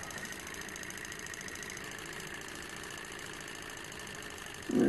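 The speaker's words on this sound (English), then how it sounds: "One of the smoothest running and quietest little Stirlings I've seen." A small SH-021 coaxial swing-arm beta Stirling engine runs steadily with a quiet, even mechanical hum, and a brief louder bump comes right at the end.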